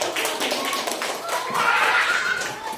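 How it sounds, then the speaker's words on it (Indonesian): Fifth-grade students clap their hands together in a classroom, a loud burst of mixed claps running for a few seconds while voices and chatter carry on over it. "Tepuk tangan buat."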